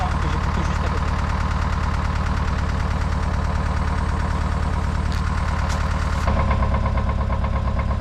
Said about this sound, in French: J'ai accéléré le tracteur.